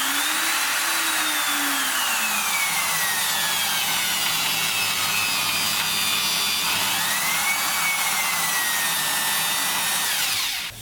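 A small electric drill press runs through an external speed controller, its motor whine gliding up and down in pitch as the speed is varied, steady and close with no talk.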